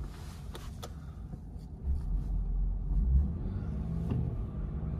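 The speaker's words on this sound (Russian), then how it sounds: "Автомобиль у нас запустился." A Lexus GS450h hybrid starts up and its engine settles into a low, steady idle rumble, swelling slightly midway through and heard close and alone.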